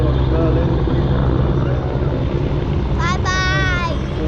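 A helicopter at an airshow in Ayr, Scotland drones loud and steady with heavy rotor and wind rumble, while a voice sounds briefly near the end.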